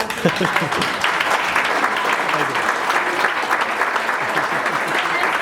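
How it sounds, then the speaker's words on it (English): Audience at a hockey club banquet gives a sustained round of applause, a dense, even clapping wash with a voice heard faintly underneath. "Give him a big round of applause because he has done a lot for the club"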